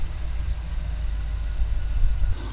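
A car engine idles smoothly after a power steering fluid top-up, a steady low rumble with no whine, close and continuous throughout.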